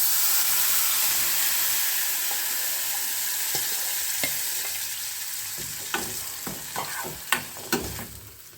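Mango juice poured into a sizzling mustard-seed tempering in a pan, with a steady hiss that slowly fades and then gives way to a run of sharp crackles and pops near the end.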